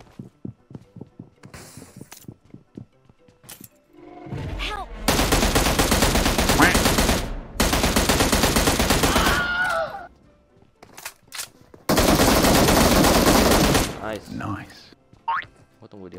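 Rapid automatic gunfire in a first-person shooter video game, long loud sustained bursts with pauses between, alongside a few single shots and short clicks, with a voice talking excitedly in places.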